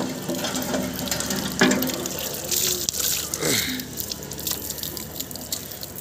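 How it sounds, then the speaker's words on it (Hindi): Water runs from an outdoor tap at a school as hands and feet are washed beneath it, a steady splashing stream with drips and flow changes, fairly close, with no talking. "नल पर हाथ पैर धो लेंगे"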